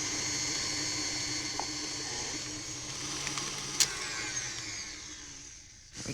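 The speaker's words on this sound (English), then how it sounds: "Now I'm switching to a paddle to cream the butter and icing sugar together." A stand mixer fitted with a paddle creams butter and icing sugar for a Sacher torte, humming steadily and fairly loudly throughout, with a few faint clicks and knocks before it winds down at the end.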